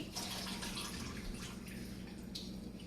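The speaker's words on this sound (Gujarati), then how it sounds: "હું 2 કપ પાણી ઉમેરી રહી છું." Water is poured into a pot of moong dal cooked with suva (dill) greens, giving a soft, steady splashing and trickling that runs throughout at a low level, with no voices.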